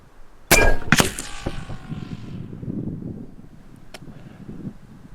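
A single loud, sharp report from an AEA Zeus Gen 2 .58 caliber air rifle fired at a 100-yard target, with a short ringing tail and a second knock just after, then a low steady background.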